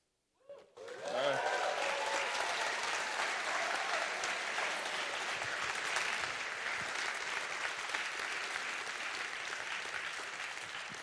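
An audience at a company hackathon awards event bursts into loud, dense applause after a brief opening sound, and the clapping stays full and continuous until the end.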